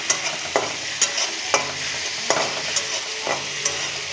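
Spice masala with sour yogurt being stirred and fried in a pan for paneer pasanda: a steady close sizzle with regular scraping strokes of the spoon roughly every half second to second, with no talking.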